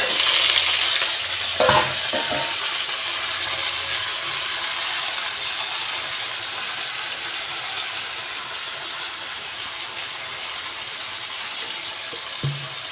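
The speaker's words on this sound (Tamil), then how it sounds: "இப்போ சிக்கனை போட்டுக்கலாம்." Chicken fries in hot oil with onion and green chilli for a chicken kuzhambu. An early clatter sounds as ingredients go in, then a loud, steady sizzle continues throughout, with a faint clink near the end.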